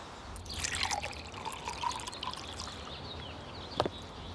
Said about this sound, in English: Pour some water into a bowl full of cotton balls.